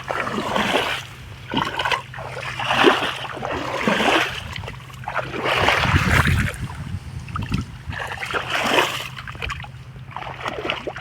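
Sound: irrigation water flowing into a grass field

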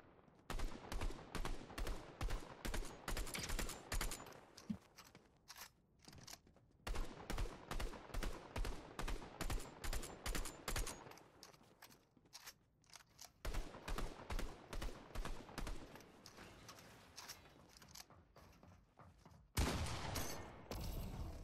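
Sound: gunfire from hip-firing a weapon in the video game Fortnite

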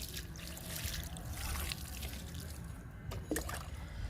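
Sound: pouring water onto compost

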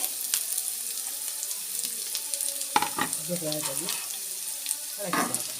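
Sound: frying Chinese potatoes with onions, stirring in pan

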